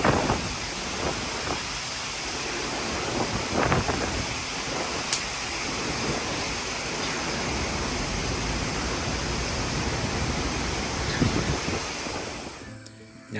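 A waterfall in Kerala pours steadily, a broad continuous rushing roar that holds at an even level throughout, with a few faint knocks and splashes near the end.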